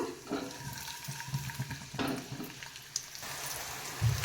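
Garlic frying in oil in a pan while cooking garlic rice, a steady wet sizzle with soft crackles and occasional stirring scrapes, close and moderate in level with no talk.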